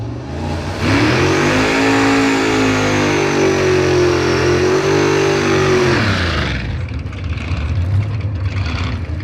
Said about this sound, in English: He's gonna have to grab his way through the gears as he bumps the 1955 Chevrolet in, and Blasphemi's off the starting line.